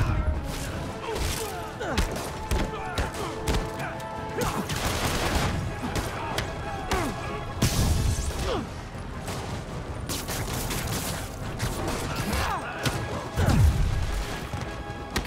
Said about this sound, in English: You can do without the gunfire, thank you.